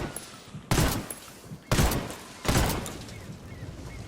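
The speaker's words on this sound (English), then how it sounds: "It took 4 shots with the Spaz 12 to destroy an APC." Three heavy Spaz 12 shotgun blasts in the video game Ghost Recon Wildlands, fired at an APC, each a loud booming crack with a short decaying tail, spaced about a second apart.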